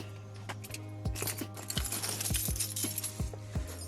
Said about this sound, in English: him throwing Alex's car keys in his own car just to throw them on the ground later is my favorite Jay moment in the season.